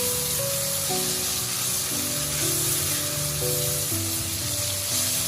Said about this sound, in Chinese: 继续翻炒均匀，炒出番茄汁，那样吃起来酸甜可口。